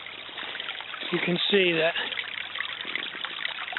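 A clear running stream trickles and babbles steadily over gravel at close range, with someone talking over the water.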